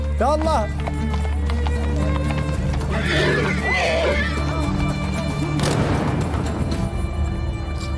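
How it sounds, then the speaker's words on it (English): Horses moving and clip-clopping amid a busy outdoor scene in Morocco during Fantasia horse-riding practice, with a whinny early on and people talking throughout over steady background noise. "Each rider keeps control of his own horse."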